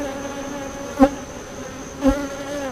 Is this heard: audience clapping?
no